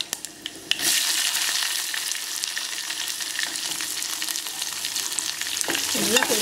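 Oil tempering for a radish sambar: curry leaves, mustard seeds, cumin, dried red chilli and onion hit hot oil in a pan. The result is a loud, steady close sizzle with crackling pops, a few stirring scrapes and no talk.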